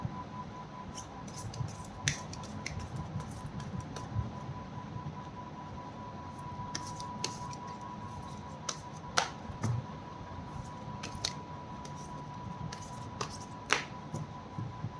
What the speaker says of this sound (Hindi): This is my one and last shuffle.